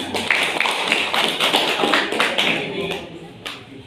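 Audience at an Umrah travel group gathering clapping in a brisk, uneven patter of many hands, fairly close and loud, with voices talking over the clapping before it thins out.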